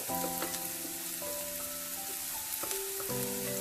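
Chilli and coriander powder sautéing in a pan of oil for a homemade tomato chutney, a steady close sizzle with tonal background hum and a few scraping stir sounds, no voices.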